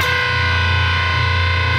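A heavily distorted electric guitar plays a metal-style riff across two strings, a thick sustained buzzing tone with steady loudness throughout, no voice over it.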